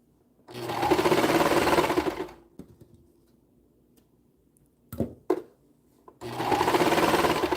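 Sewing machine stitching a stretched waistband, two loud bursts of rapid rhythmic stitching separated by quiet handling clicks and a couple of short mechanical thumps, close by.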